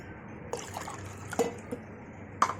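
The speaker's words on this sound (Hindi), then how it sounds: "तो यही कप से मैं 2 कप पानी मिला रही हूँ इसमें।" Water poured from a cup into whisked yogurt for kadhi, with a light trickling splash and a few small clinks of the cup close by, no talking.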